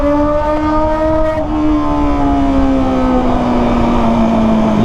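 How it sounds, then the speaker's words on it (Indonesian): A Kawasaki ZX25R with a Toce exhaust rides through a city at night, its high-pitched four-cylinder drone loud and steady, holding revs then easing slightly lower as the ride goes on, with no talking. "Menikmati suara knalpot Toce di malam minggu ya."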